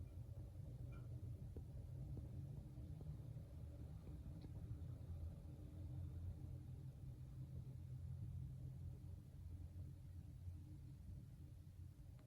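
Cars drive past on a nearby road in winter, a steady low rumble of engines and tyres that swells faintly without any clear individual pass-by, with no voices.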